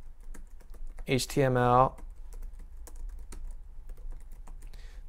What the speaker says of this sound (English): let's type this